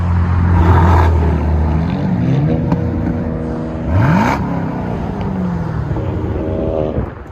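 A Chevy Camaro SS with a 6.2L V8 and a muffler delete revs loudly nearby in several sharp bursts, each rise falling back to a rumbling idle.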